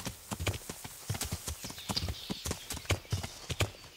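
Horse hooves clip-clop in the video game Kingdom Come: Deliverance, making a steady rhythmic trot of many close, distinct hoofbeats over a faint background, with no talk.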